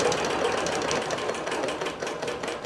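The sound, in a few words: computerized quilting machine stitching a quilt border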